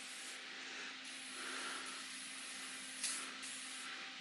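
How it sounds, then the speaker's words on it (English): Aerosol can of 3-in-1 oil sprayed over a Myford Super 7B long-bed lathe, a steady close hiss running for several seconds with a brief sharper burst near the end, no voices. "I'm just going to spray 3-in-1 oil everywhere on it for the time being"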